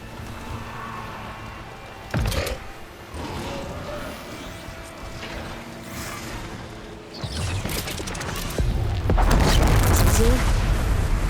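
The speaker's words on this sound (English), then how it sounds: "Time to drop that bomb." In Horizon Forbidden West, a dropped bomb goes off with a sharp boom, then rumbling blasts and crashing debris build louder toward the end amid machine combat noise.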